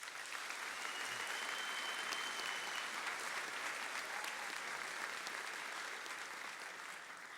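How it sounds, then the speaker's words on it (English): An audience at a Port Huron Northern senior assembly applauds its graduating students: a steady, even wash of many hands clapping together, sounding distant and soft, with no voices over it. "Let's give these students a nice round of applause."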